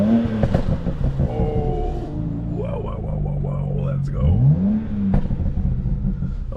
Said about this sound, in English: Let's give it some revs and see how it sounds.